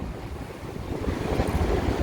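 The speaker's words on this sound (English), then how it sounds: "It's getting windy again, ladies and gentlemen." Strong wind buffets the microphone on a street in downtown Chicago, a continuous low rumbling roar that swells slightly toward the end.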